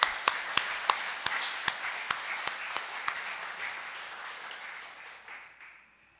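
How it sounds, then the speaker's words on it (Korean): A church congregation applauds the choir with a few sharp, separate claps at first, joined by wider clapping that swells and then slowly fades to silence. "오늘 은혜로운 찬양으로 하나님께 영광 돌릴 성가대 격려의 박수를 한번 보내십시다."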